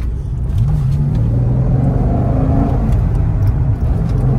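Engine of a 505-horsepower 2010 Corvette revving loud and close, its pitch climbing and falling through gear shifts in one steady, unbroken drone.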